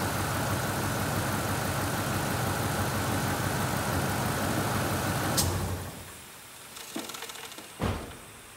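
A Ford F-150 engine idles with the A/C compressor engaged, a loud, dense steady drone that cuts off abruptly after about five seconds, followed by a few clicks and knocks in near quiet.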